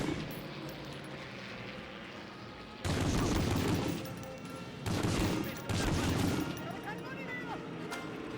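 Gunfire in the World War II shooter game Medal of Honor: Frontline, dense bursts of rapid shots and booms that come in loud waves over a constant battle din.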